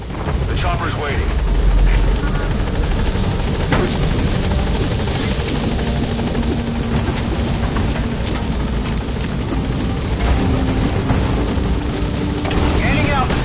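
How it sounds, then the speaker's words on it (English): Helicopter in Metal Gear Solid 5: The Phantom Pain, a loud continuous rotor thrum and engine whine held close throughout, with speech over it. "The chopper's waiting."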